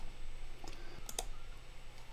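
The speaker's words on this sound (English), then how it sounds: "typing into YouTube" A few quick clicks of keys being typed on a computer keyboard, sparse and close, over a quiet background hum.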